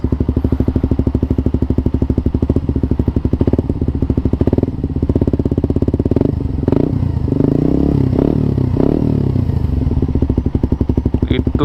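Suzuki GSX-R150 with an Akrapovic exhaust and no dB killer, idling with a deep, bassy burble and blipped throttle revs, loud and close, with some clatter and thuds.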